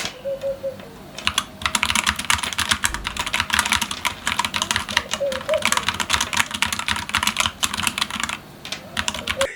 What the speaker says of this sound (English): pressing these keys is one of the most important part of a mechanical keyboard